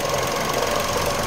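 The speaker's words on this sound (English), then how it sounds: "Look how low this thing's idling." A 2006 GMC Envoy with the 4.2 engine idling too low, a steady close rough mechanical rumble with a faint knocking quality and no talk over it.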